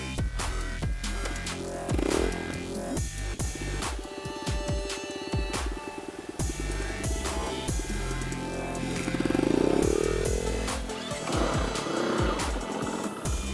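Dirt bike engine running while a beginner learns to ride, an uneven putter with bursts of throttle and a rising rev near the end, close and steady with no talk over it.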